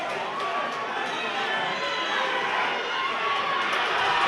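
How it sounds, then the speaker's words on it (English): A boxing crowd at an amateur fight night roars in a loud, continuous wash of cheering and shouting that swells slightly toward the end, with a commentator's voice blended in. "The crowd are going crazy."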